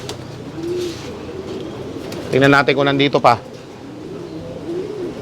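Pigeons coo softly in a loft at Pagudpud, low murmuring calls repeating through the clip, with someone speaking over them in Filipino and a brief louder clatter partway through.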